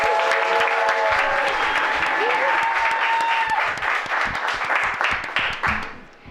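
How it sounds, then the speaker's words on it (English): A live in-room audience at a podcast recording breaks into steady applause and some cheering, sustained for several seconds before tapering off, with a voice briefly audible over the start. "can I get a round of applause from the people in the room"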